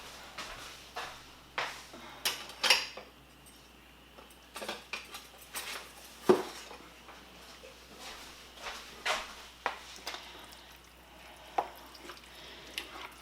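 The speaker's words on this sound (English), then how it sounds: "And I gotta stir it all up." A spoon stirs fire-roasted corn into a pot of hearty chili, giving repeated clinks and scrapes against the pot in an irregular rhythm, close and moderately loud, with no speech.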